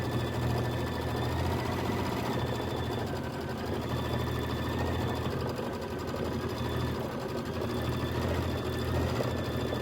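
An embroidery machine stitches a Kimberbell autumn quilt filler block, giving a steady, fast mechanical hum and rattle that runs unbroken and close throughout.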